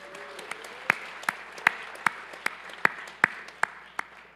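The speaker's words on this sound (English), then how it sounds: "She gets the applause, CEM advisor." Scattered handclaps from a small audience at a university construction engineering hardhatting ceremony, about a dozen separate claps at an uneven, unhurried pace, fairly close and moderately loud.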